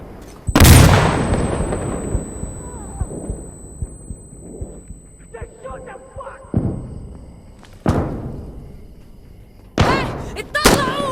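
A flash grenade in Insurgency Sandstorm goes off with one loud, sharp burst and a ringing tail that fades slowly. Later thuds and scattered gunfire-like bangs follow, with voices shouting in places.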